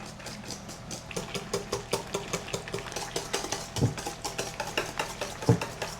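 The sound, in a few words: whisking cake batter with whole milk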